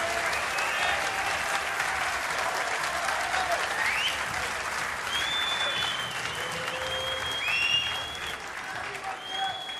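Standing ovation from the Alexandra Palace crowd at the 2024 Masters snooker for Ronnie O'Sullivan, a dense, steady roar of applause lasting throughout with a commentator's voice over it.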